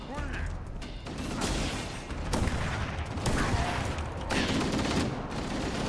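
Gunfire and weapon mechanisms in the Halo video game, a dense continuous barrage of shots and mechanical clatter with several sharper bursts, loud and close throughout.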